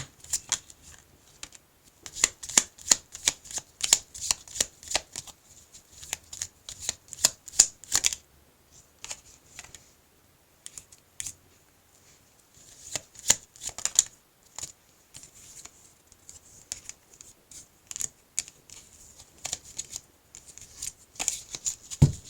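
Tarot cards being shuffled by hand at close range: repeated quick riffling bursts in two long runs separated by a brief pause, with no talking.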